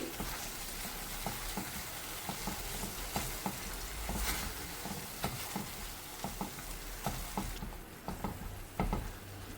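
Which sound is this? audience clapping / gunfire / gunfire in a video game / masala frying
masala frying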